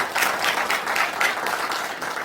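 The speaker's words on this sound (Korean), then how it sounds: "박수 한 번만 좀" Audience at a regional integration talk concert in a university hall applauds a lawmaker, steady, fairly close clapping from a crowd with pulsing bursts throughout.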